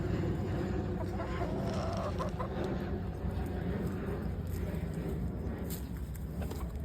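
Grumpy backyard hens in a rebuilt chicken run with a galvanized roof cluck softly and intermittently over a steady, noisy outdoor background.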